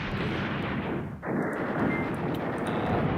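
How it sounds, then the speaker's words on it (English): Artillery fire in the Command Ops 2 war strategy game, a continuous heavy rumble of distant shelling with a brief dip midway and faint crackling bursts on top. "let me just call down some artillery"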